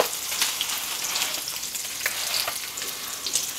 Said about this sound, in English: We now start with putting in our chopped garlic. I've used here 4 cloves, or big cloves of garlic, and you fry this until it is fragrant.